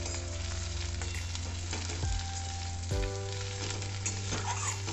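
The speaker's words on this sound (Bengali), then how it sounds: "পেঁয়াজগুলো আমার কিছুক্ষণ ভাজা হয়ে গেছে, এরপর আমি গাজর আর ফুলকপির সাথে মিশিয়ে দেবো।" Onions, carrot and cauliflower fry in oil in a pan, a continuous bright sizzle with a few clinks and scrapes of a stirring utensil against the pan, close and steady throughout.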